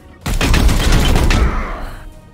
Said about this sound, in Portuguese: Vou meter tiro nas costas dele